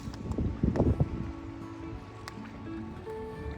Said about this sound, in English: It's pretty windy because we've got some storms rolling through here soon.